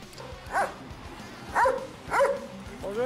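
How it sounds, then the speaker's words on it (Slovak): A dog barks in the medieval video game Kingdom Come: Deliverance 2, four short clear barks spaced irregularly over a low game background, with no talking. "Môžem vedieť, čo hovorí ten pes?"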